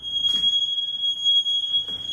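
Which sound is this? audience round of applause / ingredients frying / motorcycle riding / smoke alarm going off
smoke alarm going off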